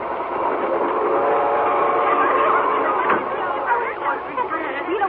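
A night train runs in an old-time radio drama effect, a steady rumble and rattle of rail cars with a brief whistle, heard under a narrator's voice and chatter.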